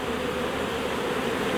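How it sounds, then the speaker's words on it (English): A dense swarm of honey bees, tens of thousands strong, hums in a steady, continuous buzz close by, loud and unbroken with no voices. "A lot of buzzing bees"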